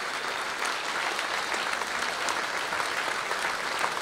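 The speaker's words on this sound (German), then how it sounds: "alle bekommen einen mächtigen Applaus, oder?" An audience claps after a taekwondo show in a steady, dense wash of applause lasting several seconds, with no clear voices above it.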